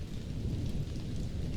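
Steady, dense rain with a low thunderous rumble from a storm over the sea, continuous and fairly soft, with no voices.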